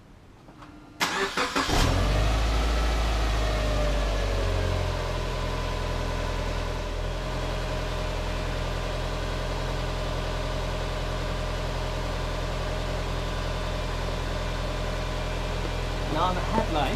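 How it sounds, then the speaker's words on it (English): A Subaru Liberty GT engine cranks briefly after a short quiet moment, catches and settles into a steady close idle with a low hum that continues to the end. "and turn the engine on."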